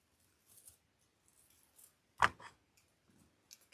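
Scissors snip off excess ribbon on a large holiday wreath in a single sharp close cut, surrounded by faint rustles and handling sounds in a quiet room.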